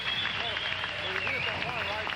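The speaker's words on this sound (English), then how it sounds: "Cliff Swain lost that point, but he's the guy getting the applause" Spectators applaud after a long rally at the 1997 US Open Racquetball men's final. The steady clapping plays under a commentator's voice for the whole stretch.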